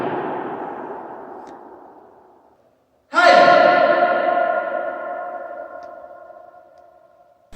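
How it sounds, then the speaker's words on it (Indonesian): A sharp, loud sound rings out and decays slowly with a long, reverberating tail, following an earlier fading tone and a brief silence. "Gema adalah bunyi pantul yang muncul setelah bunyi asli selesai dikirim."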